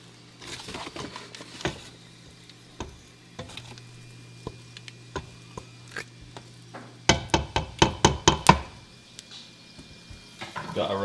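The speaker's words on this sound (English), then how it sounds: "We put the lentils in, we've just been cooking that. Give it a little bit of a stir so you can see it." Cooked lentils being stirred into a pot of homemade lentil curry, a run of scraping and sloshing stirs with a quick rhythmic burst of strokes near the end, close and fairly quiet over faint sizzling.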